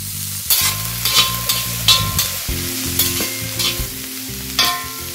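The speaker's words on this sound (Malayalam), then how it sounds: "ഹൈ ഫ്ലെയിമിൽ വെച്ചിട്ട് തന്നെയാണ് ഞാനിത് വഴറ്റിയെടുക്കുന്നത് കേട്ടോ" Vegetable masala with curry leaves sautés in a pan over high flame, a loud close sizzle broken by repeated clanks and scrapes of a spoon stirring against the pan, with no talking.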